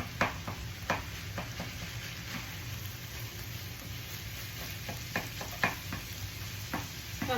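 Rice being stirred into a sizzling frying pan dish, a steady fry hiss with scattered scrapes and taps of the utensil against the pan.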